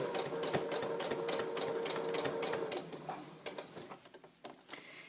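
A sewing machine stitches fabric pieces for a memory bear's head, running steadily for about three seconds, then trailing off into scattered clicks and fabric handling, close by and without talk.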